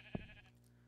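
Sheep in the video game Minecraft giving a single short, quiet bleat near the start, followed by a low ambient hum.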